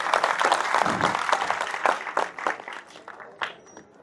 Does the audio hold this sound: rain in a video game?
no